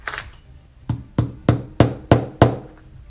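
Six sharp, evenly spaced mallet strikes drive a leather pricking iron through leather to punch saddle-stitch holes, each a close, solid thock, preceded by a faint rustle.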